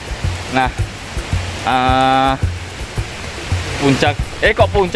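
Ngleyangan waterfall near Parang village, Grogol, Kediri, gives a constant broad rushing roar close by, heard under a voice that speaks on and off throughout.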